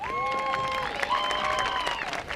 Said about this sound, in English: Round of applause for Armand.